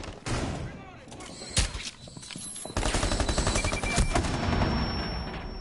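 M249 machine gun in Rainbow Six Siege firing amid a firefight, with scattered shots and a sharp blast early, then a long loud rattling burst of rapid fire, while someone talks excitedly over parts of it.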